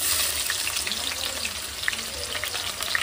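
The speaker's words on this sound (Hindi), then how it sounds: "तो मैं इसमें डाल दूँगी सबसे पहले प्याज" Onions hit hot oil in a home kitchen pan and fry with a loud, continuous crackling sizzle, close and steady across the short stretch.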